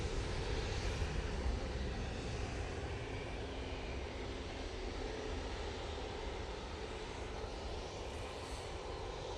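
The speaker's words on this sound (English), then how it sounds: "this is the Ryanair coming in from Knocknow. Oh, Cork, I should say, using 737 MAX 8 for this flight" Ryanair Boeing 737 MAX 8 airliner arriving at Manchester Airport from Cork, a steady distant jet roar with no talk, holding an even, fairly faint level throughout.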